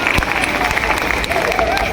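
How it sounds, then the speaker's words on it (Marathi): Applause from a magic show audience welcoming a volunteer onstage: dense, steady clapping fills the whole stretch at a fairly close, even level, with crowd noise and some talking mixed in. "एकदा जरा जोरदार टाळ्या द्यायच्या त्यांना"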